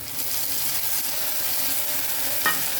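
Chili, ginger and garlic paste frying with onions in a pan for a Bengali green jackfruit and prawn curry, a steady close hiss of sizzling with a brief stir scrape near the end.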